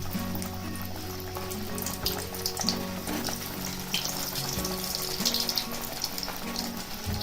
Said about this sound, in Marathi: त्यामध्ये आता हे कडवू एक एक असं